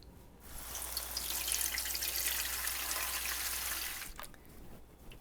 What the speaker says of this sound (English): we're just going to fill this with enough water till it's flush with this rack.